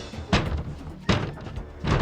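Three heavy thuds strike at roughly even intervals, forceful blows breaking in a door, booming and close.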